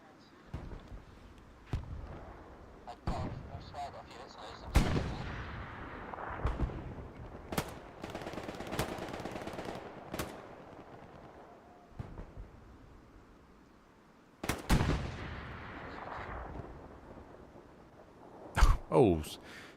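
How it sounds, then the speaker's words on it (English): In a competitive Hell Let Loose match near Foy, gunfire from a machine gun and rifles rings out as sharp, scattered shots and short bursts, some loud and close, others distant and echoing. "Spivey up there with the MG."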